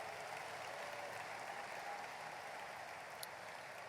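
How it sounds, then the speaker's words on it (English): An audience at a high school sports awards show claps together for the CT team, steady dense applause at a distance, fairly faint and unbroken throughout. "if you wouldn't mind, a round of applause for the CT team"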